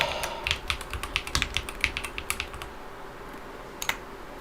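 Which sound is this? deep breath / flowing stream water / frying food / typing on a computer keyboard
typing on a computer keyboard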